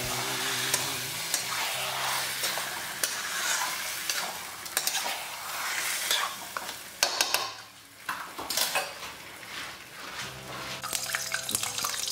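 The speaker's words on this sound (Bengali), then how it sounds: "এখন আমি কড়াইয়ের মধ্যে মাংসগুলো দিয়ে দেবো," Chicken pieces dropped into a hot wok for a Bengali curry, loud bursts of spitting sizzle that swell and ebb, with repeated scraping stirs and clattering of a metal spatula on the pan.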